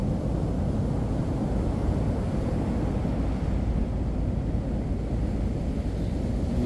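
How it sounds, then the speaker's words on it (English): Twin 200 HP Suzuki outboard motors on a 747 Tom Cat boat roar steadily at full throttle while pushing onto plane, a loud, constant low rumble mixed with wind buffeting, with no talk. "You can hear the 200s roaring and digging deep to get the boat onto plane."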